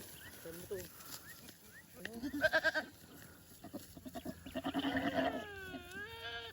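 A goat bleats repeatedly in quavering, wavering cries, several close calls in bursts with short pauses between, while people talk in the background.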